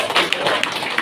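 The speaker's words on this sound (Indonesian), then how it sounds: "Kasih aplaus dulu untuk Pak." The audience at a focus-group discussion forum applauds a speaker. Several claps blend into a dense, close, steady burst of moderate loudness that lasts about a second.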